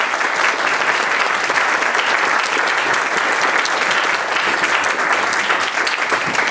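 Steady, sustained audience applause fills a lecture hall welcoming Professor Akhil Amar, dense clapping from a large crowd holding at an even, loud level throughout.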